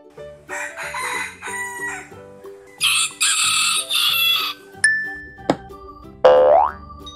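A rooster crows and clucks among other fowl noises over a steady backing melody of musical tones, with a cartoonish boing-like effect and a rising whistle near the end.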